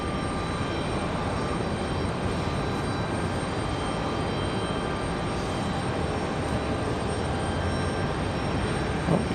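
An airplane departing Raleigh-Durham International, heard as a constant, dense engine roar with no breaks, loud and steady from start to finish.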